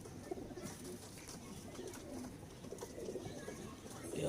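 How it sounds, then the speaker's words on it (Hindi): A Teddy pigeon, part of a breeder pair, coos softly in a loft, low murmuring coos that repeat with little pause and sit at a quiet level, with faint background noise. "बड़ा शानदार और जानदार कबूतर है ये कोने वाला टैडी"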